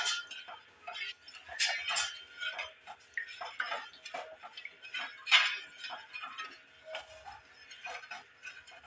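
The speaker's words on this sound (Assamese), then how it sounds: "এইদৰে লৰাই লৈছোঁ" A spoon stirs a cup each of sugar and water in a pan for sugar syrup, giving light repeated clinks and scrapes of metal against the vessel at close range, steady and fairly quiet.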